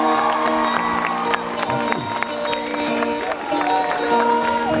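A concert audience at a rock band's show claps and cheers steadily, a dense wash of applause with whoops over lingering sustained tones from the stage.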